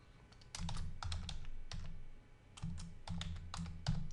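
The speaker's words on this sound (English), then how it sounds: "if I start typing here" Someone types on a computer keyboard in quick, close clusters of soft key taps with short pauses, fairly quiet with no speech.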